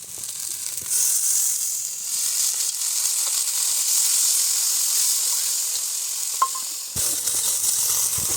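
Bhola fish curry sizzles steadily in a pan over a clay stove, a continuous close frying hiss that holds after a brief quiet start, with one faint clink near the end.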